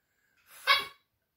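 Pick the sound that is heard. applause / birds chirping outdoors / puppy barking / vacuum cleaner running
puppy barking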